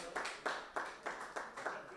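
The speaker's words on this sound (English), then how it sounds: "Come on, round of applause." Audience claps at a residential property launch event, a steady rhythm of about seven even, moderately distant claps over two seconds.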